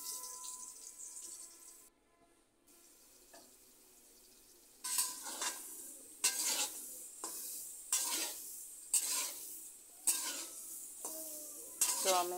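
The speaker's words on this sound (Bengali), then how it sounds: "সে তেলের মধ্যে এবার আমি চাউমিন গুলো ভেজে নেব একইভাবে, লবণ হলুদ দিয়ে" Chow mein noodles frying in oil with salt and turmeric, a steady hiss broken by a run of sharp, regular stirring scrapes and bursts of sizzle, close and moderately loud.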